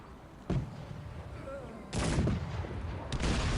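Gunfire in the strategy video game Cossacks 3 during a French campaign battle, two or three loud crackling volleys that rise over quiet background, with a faint voice beneath.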